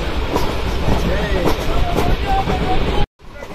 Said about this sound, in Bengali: আমাদের ট্রেন এখন ঢুকে পড়েছে।